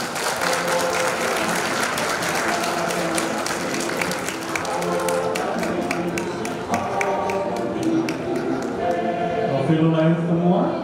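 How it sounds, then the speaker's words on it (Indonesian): Applause at a Lions Club charter night gathering, dense clapping under continuous voices and tonal background sound, with distinct sharp claps becoming clearer toward the end. "Beri tepuk tangan."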